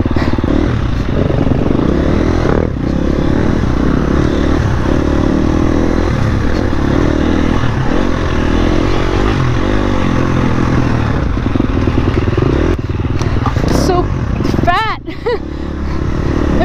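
A motorcycle rides a rough, rocky trail, its engine droning loud and close throughout amid clattering and scraping, with a brief dip near the end.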